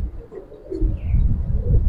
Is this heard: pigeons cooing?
yes